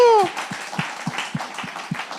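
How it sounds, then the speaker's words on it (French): A church congregation claps for a couple's fiftieth wedding anniversary, with steady rhythmic claps about twice a second after a brief tonal sound at the start. "50 ans de mariage, vous les applaudissez, vous les encouragez."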